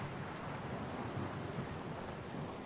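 Heavy rain in the Pillars of Eternity 2 game, a dense, steady roar with a low rumbling undertone, loud and constant throughout with no voices.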